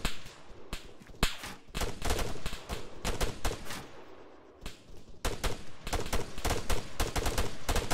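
Rapid gunfire in a firefight, dense volleys of sharp shots with short pauses, loud and close throughout, no talk.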